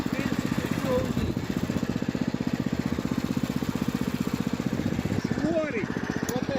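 A walk-behind tractor (motoblock) engine runs in third gear in a vegetable garden, a steady rapid putter with a rough, pulsing rhythm, loud and close, while someone talks over it.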